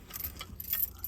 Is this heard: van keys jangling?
yes